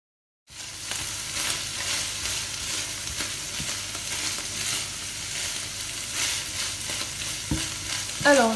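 Minced meat fries in a pan while a wooden spatula presses and breaks it up, a continuous close sizzle with scraping stirs and a few knocks, starting after a brief silence.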